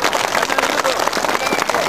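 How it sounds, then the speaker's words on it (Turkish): A dense burst of applause and clapping from a crowd celebrating local municipal election results in Çermik, loud and continuous with crowd babble mixed in. "Tabii, alkış."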